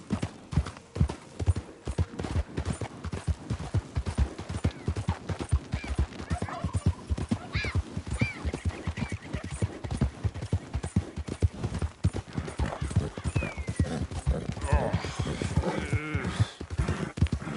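Horse hooves clip-clop steadily on a dirt road in the video game Red Dead Redemption 2, a close and rapid walking rhythm that runs throughout, with a faint whinny and soft background voices.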